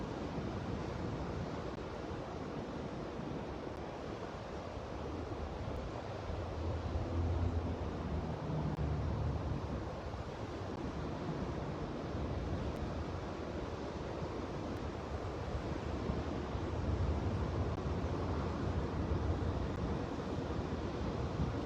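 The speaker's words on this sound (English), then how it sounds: "You guys hear the sound of the ocean, or is that just me?" Ocean surf rolls on continuously with a broad, steady roar that swells and eases gently, heard alone without talking over it.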